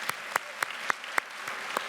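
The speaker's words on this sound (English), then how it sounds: "if we can just give them all a round of applause." A round of applause for admitted students at a college welcome session. Sharp, evenly spaced handclaps sound at a steady moderate pace, fairly faint and distant in a quiet hall.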